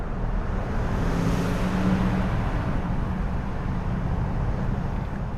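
A Porsche engine roars steadily inside a tunnel, a loud, continuous broadband rumble that holds the whole time with a faint windy hiss over it and no talking.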